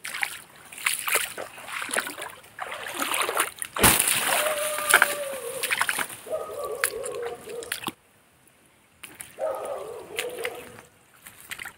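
A motorcycle rides through a mountain stream, and water splashes and sloshes loudly around it in bursts. A short quiet gap comes near the end, followed by more sloshing.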